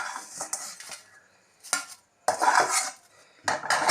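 Vermicelli fries in dalda in a pan, heard as intermittent bursts of scraping and clattering from a utensil stirring against the metal, separated by short quiet gaps, with no talking.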